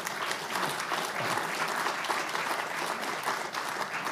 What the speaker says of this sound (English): You can applaud one more time here.